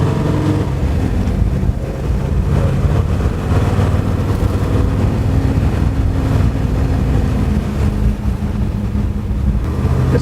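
A 1956 Chevrolet Bel Air with a four-speed floor shift on a test drive, its engine a steady low drone with road and wind noise heard from inside the cabin.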